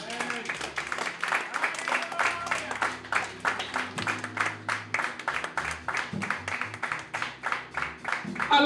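Church congregation applauding during a sermon, steady rhythmic clapping from many hands filling the room, with voices and a low musical drone underneath.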